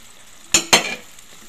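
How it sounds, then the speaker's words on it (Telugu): Drumstick (mulakkada) pieces tossed into a hot pan for a cashew curry, giving two quick loud sizzling bursts a fraction of a second apart that fade into a soft frying hiss, close by with no talking. "మనం ములక్కాడ ముక్కలు వేసేసుకుందాం."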